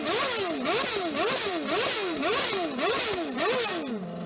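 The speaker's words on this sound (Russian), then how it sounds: "Пускай Дэйв подаст оборотов." A Formula 1 car engine is revved repeatedly in quick, loud up-and-down sweeps, about eight sharp climbs and drops in a row, close by and with no talking, before settling back at the end.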